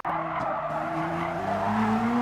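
Race car tires squealing and skidding under hard braking on the Tokyo Expressway South circuit in an RXGT racing video game, a loud sustained screech over steady engine drone lasting about two seconds.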